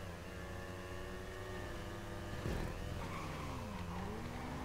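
A car in GTA 5 Online drives with a steady engine drone, then its tires squeal in a sliding skid with pitch sweeping up and down, loud and close, no voices.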